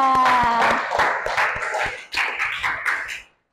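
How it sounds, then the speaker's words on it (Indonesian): Students in a classroom clap in a quick burst of sharp, close hand claps that fade out within about three seconds, with a brief ringing tone at the start. "Oke, Ica, beri tepuk tangan buat Ica."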